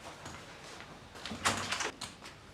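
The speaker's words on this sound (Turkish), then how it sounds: "Tamam açsana kapıyı." A door being opened indoors, a faint sequence of soft knocks and a scraping slide against a quiet room background.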